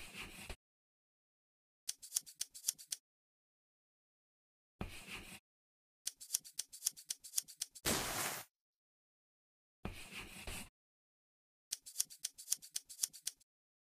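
Scissors snip fabric pieces in a sewing dress-up game, short bursts of rapid crisp cutting clicks separated by silent gaps, with one longer rasping swipe.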